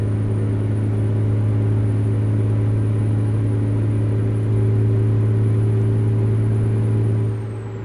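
A heavy truck engine drones steadily in American Truck Simulator, a low, even rumble held at constant revs for several seconds before easing off at the end.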